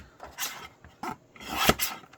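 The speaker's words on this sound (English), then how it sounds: "let me finish cutting this out. Get my trimmer" A small paper trimmer cuts out a cabinet card in a few quick rasping strokes, close and fairly quiet, with brief pauses between the slices. No one speaks.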